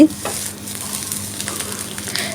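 Rohu fish roe fries in a small amount of oil, making a soft, continuous sizzle with faint stirring scrapes, close and steady, with no voices.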